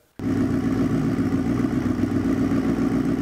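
A BMW E30 drift car's M62B44 V8, fitted with two Passat 1.8 Turbo turbochargers, bursts into a loud, steady idle after a moment of silence, a close, rough, continuous rumble with no voices.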